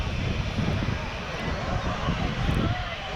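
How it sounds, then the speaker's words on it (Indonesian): Landing airliner passing low overhead at Maho Beach, a loud, steady broadband engine roar with heavy low rumble and wind buffeting across the whole span. "Ternyata yang bakal lewat atas kita ini cuma pesawat yang mendarat."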